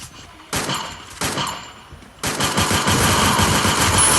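Bursts of automatic gunfire from the video game Free Fire, played on PC, come in three loud volleys, the last one a sustained rapid-fire stream.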